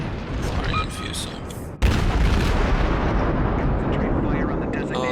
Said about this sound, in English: Firing on Fuso.